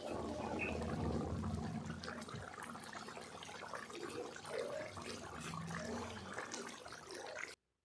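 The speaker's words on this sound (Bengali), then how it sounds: "গরম জল দিয়ে বেশ কিছু সময় ধরে ফুটিয়ে নেব।" Tel koi fish curry with hot water added, simmering in a pot on the stove, giving a steady bubbling, watery hiss that runs without pause for several seconds before cutting off abruptly.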